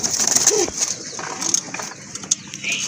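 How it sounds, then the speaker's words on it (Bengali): A purebred native domestic pigeon hen, with soft low cooing and bird sounds heard close by among a noisy flock, with busy high-pitched chatter and clatter throughout. "এটা হচ্ছে একদম দেশি কবুতর, পিওর দেশি কবুতর, মাদি কবুতর"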